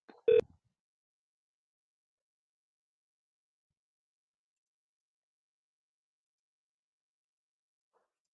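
A single short telephone keypad tone sounds at the start while dialing out in contact-center software, then the line stays silent.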